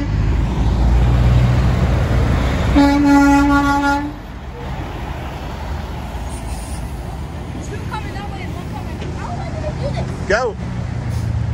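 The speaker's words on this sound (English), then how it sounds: "Oh, that's like a train horn." A semi truck's deep air horn, sounding like a train horn, blasts once for over a second amid roadway traffic noise, followed by quieter traffic and voices nearby.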